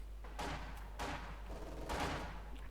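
MG-42 machine gun fire in the strategy game Company of Heroes 2 sounds as three rapid bursts of battle noise over a steady low hum, moderately loud and fairly distant in the mix.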